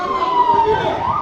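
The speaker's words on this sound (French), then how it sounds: "Immédiatement, on entend des sirènes de voitures de police arrivant sur place." Police car sirens wailing as the cars arrive at a scene, a loud, close, sweeping tone that rises and falls over a rumble of road noise.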